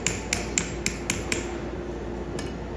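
A farrier taps out a quick, evenly spaced series of six sharp metallic hammer strikes while clinching a horseshoe nail, followed by one more tap after a pause, close and crisp.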